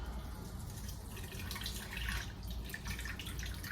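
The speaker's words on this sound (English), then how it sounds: "It's fresh watermelon juice you see pouring out." Homemade watermelon juice pours and splashes steadily out of a drain, a continuous wet trickle and gush that swells briefly midway, with no talking.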